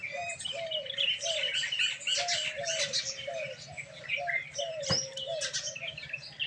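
Sparrows being fed pieces of flatbread chirp busily and continuously: a dense flock of quick, overlapping tweets and chatter, fairly close, with occasional wing flutters and a soft low background hum.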